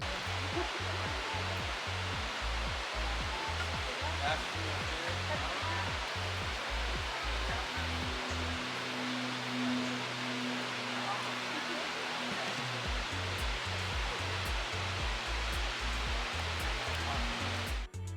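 Shannon Falls waterfall beside the Sea to Sky Highway near Vancouver, a steady broadband roar of falling water, moderately loud and unbroken, with a rhythmic low thumping beneath it.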